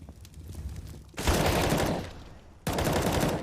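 Bursts of automatic gunfire rattle out during a competitive video game match, with two dense loud volleys separated by a short gap and no talk over them.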